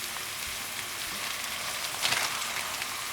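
Organic grass-fed ground beef sautés in a pan with a steady, close hiss of sizzling fat that swells briefly toward the end.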